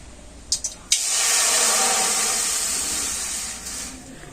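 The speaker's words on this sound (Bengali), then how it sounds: "কড়াইতে আমি এখন দিয়ে দেবো জল" Water poured into a wok set on a lit stove gives a few quick clinks, then a sustained rushing hiss that stays loud and fairly even for about three seconds before tapering off.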